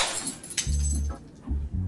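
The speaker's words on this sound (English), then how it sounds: "Did you just hit me with a glass bottle" A glass bottle smashing, a sharp shattering crash with tinkling fragments, followed by a low droning tone in the background.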